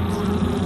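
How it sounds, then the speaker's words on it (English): Imported honey bees, non-native to Japan, fill the air with a dense, steady, close buzzing hum, continuous and loud with no voices. "These bees aren't native to Japan. They arrived during the last century, imported because they produce more honey and are less combative."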